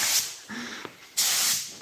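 White aerosol paint sprayed from a can onto a car bumper cover in short hissing bursts, with a brief pause between passes and a longer, stronger spray at the end.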